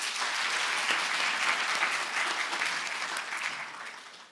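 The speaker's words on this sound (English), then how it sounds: "Let's give another round of applause." Sustained, dense applause from a seated audience at a university health sciences research day, loud and even for several seconds before tapering off at the end.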